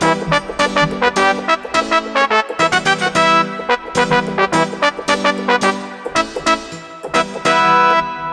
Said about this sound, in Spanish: Y luego la trompeta doble que suena así.